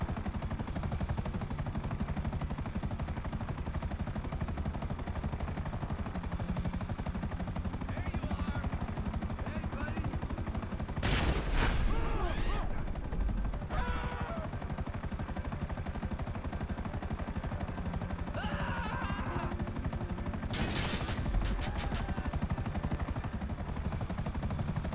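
In GTA Online, gunfire bursts out at a signal jammer over the steady thrum of a helicopter, with sharp clattering volleys around the middle and again near the end.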